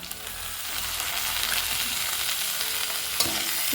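Chopped tomato frying with garlic and a pinch of salt in a pan for amudi fish jhal, a loud, dense, continuous sizzle with stirring scrapes throughout and one sharp clink near the end.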